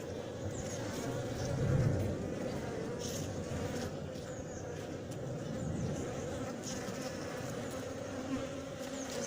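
Honeybees in a queenless colony hum in a dense, steady buzz close by, with individual bees droning past now and then.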